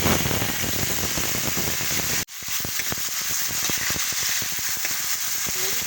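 Ginger and tomato sautéing in hot cooking oil for sinigang, a loud, dense sizzle that cuts out abruptly for a moment and then resumes, crackling steadily close up with no talk.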